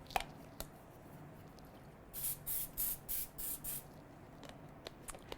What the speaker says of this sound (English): be sure to spray this sheet with your nonstick spray